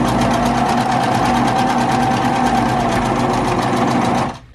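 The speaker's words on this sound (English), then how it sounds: "So I'm going to sew, stop there," A sewing machine stitches fabric for a scrunchie, its motor running in a steady, loud, continuous whir with a fast needle rhythm for about four seconds before stopping abruptly.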